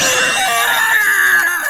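An anime warrior character screeches in pain after being stopped mid-charge: a loud, sustained, high-pitched wail that holds steady and slides slightly, with no other sounds.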